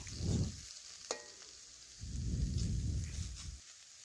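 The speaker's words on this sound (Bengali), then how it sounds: "এইভাবে আপনারাও বাড়িতে আলু ও কাঁকরোল নিরামিষভাবে ভেজে নিতে পারেন" Potatoes and teasel gourd fry in a pan with a soft sizzling hiss, rising in two broad bursts with a brief sharp clink between, close by and with no talking.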